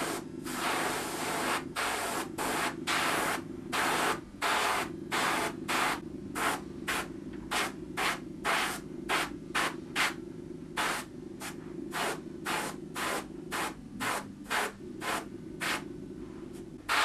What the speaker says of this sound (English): I'm now going to load the airbrush to get an initial spray on the figure